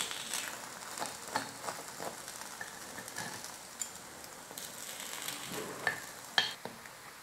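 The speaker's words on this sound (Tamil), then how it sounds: "இப்போ எல்லா பணியாரத்தையும் திருப்பி போட்டாச்சு. இன்னொரு பக்கமும் நல்லா வெந்து வரட்டும்." Kuzhi paniyaram sizzle in the wells of a paniyaram pan after being flipped to brown the other side, a soft continuous frying crackle with scattered sharper taps and scrapes from turning, close and fairly quiet with no talking.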